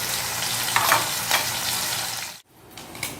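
Tambakol fish sizzles loudly in hot cooking oil, a dense steady crackle with small pops that cuts out abruptly near the end, then resumes more softly.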